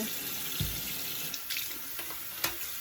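Warm water runs steadily from a kitchen tap onto the removable splatter shield of a Ninja Foodi Grill, a continuous close splashing with a few small knocks and clinks, no talking.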